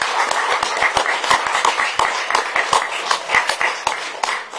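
Meeting attendees give a round of applause, a modest spread of scattered, uneven hand claps close by, steady for several seconds with no talk.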